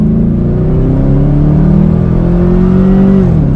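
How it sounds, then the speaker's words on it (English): A 2013 Chevy Camaro ZL1 V8 accelerating on the road, a loud, steady engine drone with the pitch climbing smoothly through a rev before easing off, heard up close. "Give it a little bit of gas."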